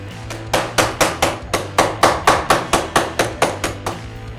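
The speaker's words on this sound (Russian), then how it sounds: "Ее тоже пришлось забивать молотком." Repeated hammer blows driving a front panel into its mount, about fourteen sharp, close, evenly spaced strikes in a steady rhythm, each one ringing briefly before the next, with no talking.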